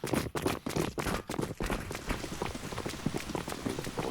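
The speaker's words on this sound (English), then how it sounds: "It's hard to see your enemy in this night rain." Rain falling in a night rain map of a tactical shooter video game, a steady broadband patter with a few louder thumping steps early on, fairly close and continuous.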